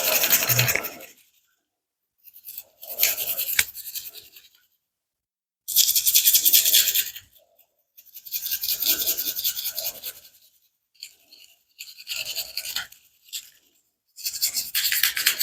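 A small brush scrubs inside the magazine well of a SIG Sauer P320 pistol in bursts of bristly rasping, near and fairly quiet, with short silent pauses between strokes.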